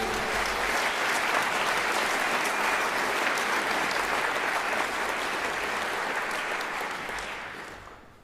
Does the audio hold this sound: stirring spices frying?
no